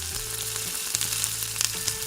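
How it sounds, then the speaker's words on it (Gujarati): Rava bhajiya fritters frying in hot oil until golden brown, giving a steady close sizzle with crackling pops and a low hum underneath, no voices. "તો આ રીતે આપણે ગરમ તેલમાં ભજીયા ગોલ્ડન બ્રાઉન થાય ત્યાં સુધી તળી લઈશું."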